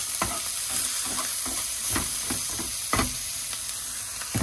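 Eggs, onions and mushrooms frying for breakfast, a loud, constant sizzle and hiss with intermittent stirring and scraping strokes close by.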